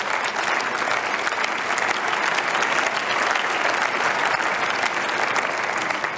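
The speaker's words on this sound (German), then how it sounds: "Applaus" Dense, sustained applause fills the German Bundestag chamber, a large assembly of parliamentarians clapping steadily and loudly without pause for the full stretch, with no voices rising above it.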